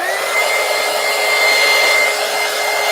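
A hair dryer blowing on wet paint on a mixed media page, a steady close whine with a constant airy hiss that runs without a break for about three seconds.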